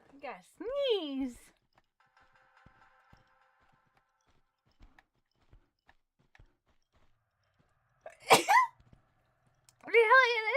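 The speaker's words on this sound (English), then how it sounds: "I gotta sneeze." A single sharp human sneeze bursts out near the microphone during a Tomb Raider II Remaster play session, followed by quiet faint ticks and footfall-like taps, and a short spoken exclamation afterward.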